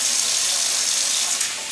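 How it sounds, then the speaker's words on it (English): Warm water runs steadily from a sink tap, a continuous close hiss of flowing water with no talking. "turn on warm water"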